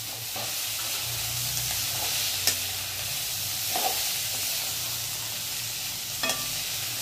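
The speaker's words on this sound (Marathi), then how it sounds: "हे बडीशोपचं कूट पण टाकलं. आता आपण याला हलवून घेऊ." Bitter gourd with crushed fennel frying in a pan makes a steady close sizzle and hiss, broken by a few soft scrapes of a spoon stirring it, no voices.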